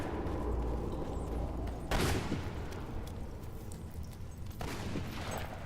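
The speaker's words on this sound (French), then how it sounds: "j'entends des coups de feu" Rapid bursts of gunfire in the video game Fable 3 crackle through a dense, noisy mix, with a sharper volley near the two-second mark and another toward the end.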